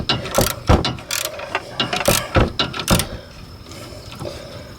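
A Harbor Freight socket ratchet clicks in several short bursts of sharp, close mechanical ratcheting while loosening sway bar end links on a 2009 Subaru Forester, with quieter handling noise between the strokes and no talking.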